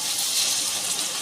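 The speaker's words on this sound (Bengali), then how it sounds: "আমার গরম করা জলটাকে আমি এবার দিয়ে দিচ্ছি" Heated water is poured briefly into a pan of potato and paneer curry, a close, soft splashing gush with no talk.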